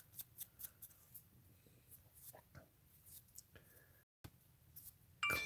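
Scissors trim a tie, giving a few light, quiet snips and clicks in a sparse rhythm against a soft background, with a faint electronic ding near the end.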